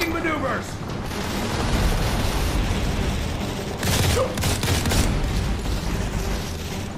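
Gunfire in the shooter Modern Combat 4: Zero Hour, a rolling fusillade of shots and booms under dense game noise, with bursts swelling around the middle and a voice talking partway through.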